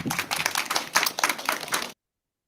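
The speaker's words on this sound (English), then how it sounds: "And they clap behind that" An audience at an open panel claps for a bit under two seconds, a brief burst of dense, even clapping that cuts off abruptly into silence.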